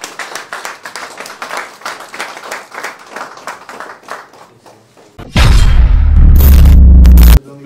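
Applause at a Congolese handover and resumption-of-office ceremony, dense steady clapping for about five seconds, then a sudden loud low booming rumble takes over near the end.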